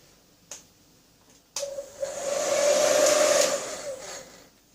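A hair dryer with a narrow slit nozzle attachment blows concentrated hot air in a steady, loud whoosh that swells for a few seconds after brief clicks, then tapers off.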